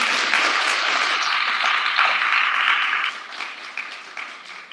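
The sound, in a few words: audience applause for speakers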